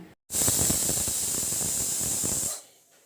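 A pressure cooker on a gas stove lets out a loud, steady high-pitched whistle and hiss of escaping steam for about two seconds, starting abruptly and fading out quickly.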